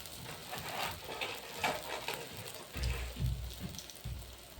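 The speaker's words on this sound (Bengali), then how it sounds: "এখন সেকেন্ড ব্যাচ হচ্ছে এইভাবেই চিংড়ি মাছের বড়াগুলো আমি ভেজে" A second batch of prawn shell fritters fries in oil, a soft, steady bubbling sizzle with faint crackles and low bumps, fairly quiet and with no talk.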